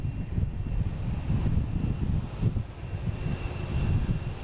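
A JetBlue Airbus A321 on approach, flight 862 arriving from San Juan, produces a low, fluctuating engine rumble that stays moderately loud and steady throughout, with no voices over it.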